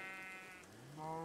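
A single sheep in a Minecraft Skyblock game gives a drawn-out, wavering bleat, loud and close, with no other sounds around it.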